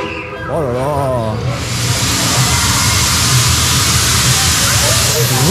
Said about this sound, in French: Il est en train de vider sa vapeur là, c'est fou.